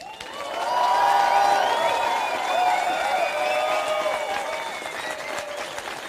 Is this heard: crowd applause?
yes